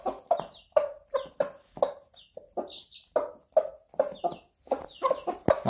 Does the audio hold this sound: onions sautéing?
no